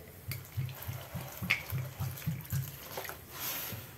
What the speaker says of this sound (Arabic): انا هنا كندير الماء الكافي